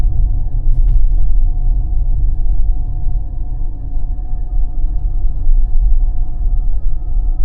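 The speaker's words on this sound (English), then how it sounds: "If you carefully listen, you'll hear a Jetson sound." A hybrid car gives off a steady low rumble with a faint sustained electric whine over it, a futuristic hum heard from inside the car throughout.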